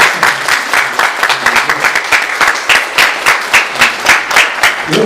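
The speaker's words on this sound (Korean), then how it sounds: "박수 기왕 크게 주세요." Congregation at a Korean Sunday church service giving a loud, vigorous round of applause, dense close clapping sustained for several seconds with no talk over it.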